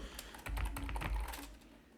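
Rapid typing on a computer keyboard while writing SQL code, a dense burst of close clicking keystrokes that eases off toward the end, no voices.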